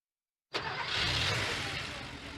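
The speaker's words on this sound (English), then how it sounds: "That's the sound of an engine running on the strength of Castrol Edge." A car engine cranks and catches abruptly, then settles into a steady, loud running rumble with broad hiss, close and alone.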